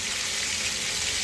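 Chicken pieces frying in a pan for chicken grill give a steady, close, bright sizzling hiss throughout.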